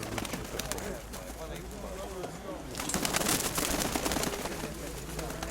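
Pigeons coo at an outdoor market fair, low burbling calls mixed with fluttering and crowd bustle, while people talk over the scene at moderate loudness.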